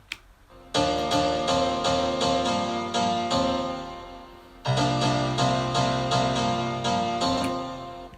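A bright piano plays repeated chords with a long, washy reverb tail, pausing briefly before a second phrase begins. Instrumental only, no talking.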